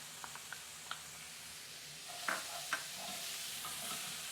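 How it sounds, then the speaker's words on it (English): Fennel seed, peri-peri spice and garlic sizzle quietly in a pan, with a soft continuous hiss and a few light spatula taps and scrapes as they are stirred. "Cook for a few seconds, stirring to incorporate ingredients."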